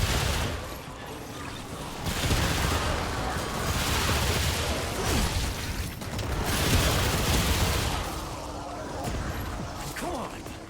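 Gunfire from shooting in the video game Remnant II, dense bursts of shots rolling in waves with mechanical clatter, loud and sustained with brief lulls.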